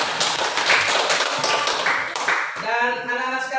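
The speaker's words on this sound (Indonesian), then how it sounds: "tepuk tangan kalian semua dulu" Students in an Indonesian classroom clap their hands together in a dense, continuous burst of close applause lasting a few seconds, which thins out toward the end.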